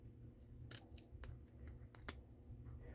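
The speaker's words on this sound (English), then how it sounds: "I'm going to cut this tape that I've got there" Scissors snip through tape while unwrapping a wood balloon-cutter project, giving a few sharp, close cuts spread over three seconds above a low steady room hum.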